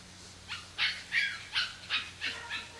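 An 8-week-old puppy gives a series of about seven short, high yips and barks at a steady rhythm, fairly close and moderately loud, with no talking.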